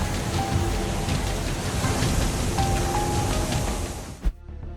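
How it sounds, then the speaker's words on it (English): Heavy rain pours steadily during flooding in Frankfurt, Germany, a dense hiss that continues loudly before cutting off near the end. "A heavy rain began to fall violently."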